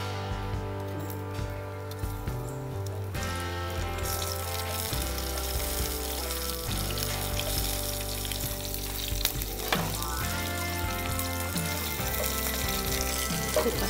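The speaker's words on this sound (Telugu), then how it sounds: "మళ్ళీ 2 స్పూన్స్ ఆయిల్ వేసి, మళ్ళీ ఇందులో 4 పచ్చిమిరపకాయలు వేస్తున్నాను." Four green chillies frying in hot oil for tomato mint chutney, giving a steady loud sizzle and crackle throughout, with occasional stirring scrapes and no talk.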